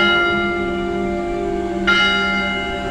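Small bells ring at a garden chapel during mass, a sustained bright metallic chime with lingering overtones and a fresh strike near the end, loud and close with no talk.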